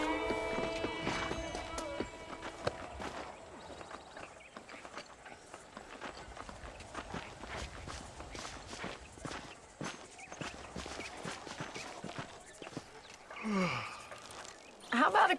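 Horse hooves clip-clopping in Red Dead Redemption: steady, moderately loud hoofbeats in a walking rhythm that continue throughout, with a brief whinny-like sound near the end and people talking over parts of it.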